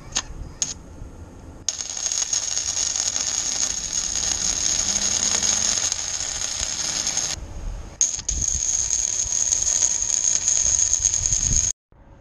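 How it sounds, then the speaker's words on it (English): Steel parts of a heavy trailer gate are welded in two long continuous bursts, each a harsh, crackling electric buzz close by, separated by a brief pause and ending abruptly. "So I'm gonna start welding."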